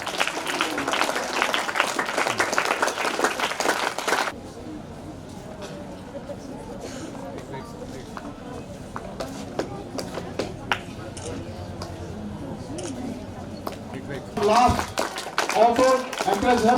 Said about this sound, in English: All of you give them a big round of applause.